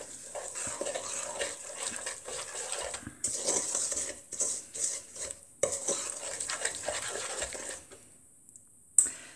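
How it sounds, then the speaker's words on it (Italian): Cane sugar, seed oil and salt stirred together in a bowl for a digestive biscuit dough, a steady scraping and clinking of utensil against the bowl in uneven strokes, fairly quiet and close, with no talking. "Poi aggiungiamo 100 g di olio di semi, mezzo cucchiaino di sale e abbiamo una bella mescolata."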